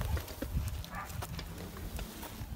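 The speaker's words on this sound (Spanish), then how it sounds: "El caballo pisotea cuando no quiere caminar" A working horse pulling a plow on a small Cuban farm stamps its hooves on the ground. The thuds are close and fairly loud in an irregular cluster, with a faint voice briefly in the background.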